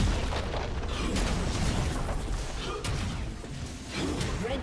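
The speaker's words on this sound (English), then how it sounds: "Red team's turret has been destroyed." A game turret collapsing in League of Legends during a top-lane Illaoi versus Kayle match: a rumbling, explosive crash with debris noise that stays loud and churning for several seconds before tapering slightly.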